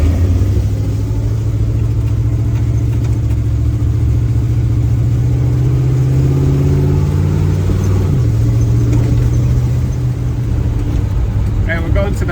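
Dash-cam drive in a 1936 Chevy coupe with a new exhaust, cruising in second gear with a steady low droning engine note that shifts pitch slightly near the end, loud and close, with someone talking over it.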